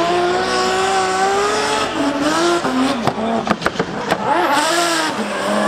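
Tires of a Mercedes drift car squeal in long, wavering screeches over a revving engine at a Drift Masters competition at Mondello Park, with sharp bursts as the car slides and the engine note rises and falls.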